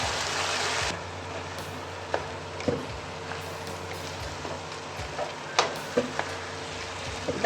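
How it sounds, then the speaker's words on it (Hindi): Partly boiled dal roasts in spices in a pan, giving a soft, steady sizzle with scattered light clicks and scrapes as it is stirred. No one speaks. "अब हम इसको इसी मसालों में दाल भी जो है ना भुनेंगे, दाल की भुनाई भी करेंगे इसी के साथ"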